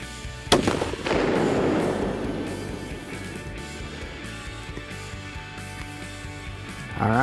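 A single loud rifle shot cracks close by during long-range shooting, followed by a rolling echo that fades slowly across the open range.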